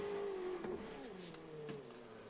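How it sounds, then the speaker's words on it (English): Electric window motor in a Lotus Elan M100 straining as it lowers a slow, sticking window: a steady close whine that sags in pitch as it labours, with a couple of faint clicks along the way. "So that's the motor going down by itself, and you can see how difficult it is to come down."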